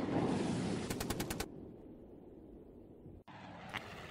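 A short burst of rapid gunfire from a fighter attacking a German bomber formation in a wartime radio drama, about six quick loud cracks over droning aircraft noise, then a quieter background hum.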